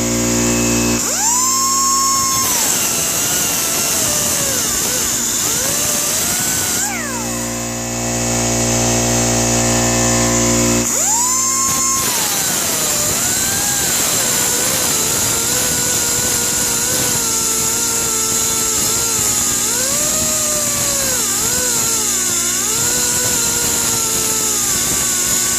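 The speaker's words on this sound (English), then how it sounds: "Now I'm just grinding off the bearing and the inner race." A Jeep Grand Cherokee WJ rear axle bearing and inner race are ground off with a high-pitched power grinder, close and loud, with the motor spinning up, wavering under load, briefly pausing, then grinding on steadily.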